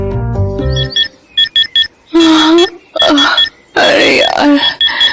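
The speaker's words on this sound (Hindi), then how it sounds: "एक तो नींद पूरी नहीं हुई, ऊपर से इरिटेटिंग अलार्म" A bedside alarm clock rings with a bright, repetitive electronic melody in short bursts, loud and close, broken by gaps where a voice speaks.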